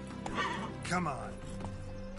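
Roach, Geralt's horse in The Witcher 3, whinnies in a brief rising neigh with hoofbeats clip-clopping beneath, set against game ambience and a man's spoken lines.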